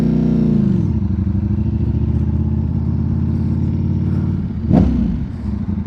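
A 2025 Ducati Panigale V4 or BMW S1000RR superbike engine drones loud and steady while riding on the street, a harsh multi-harmonic roar holding pitch with a brief shift near the end, no speech.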